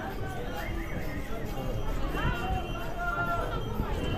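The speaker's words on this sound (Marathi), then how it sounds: "घोडा स्वारी चालू आहे." Horses on the crowded pilgrimage path to the Mata Vaishno Devi shrine, with repeated whinnies and steady clip-clopping hooves over constant crowd babble and voices.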